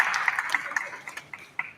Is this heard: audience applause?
yes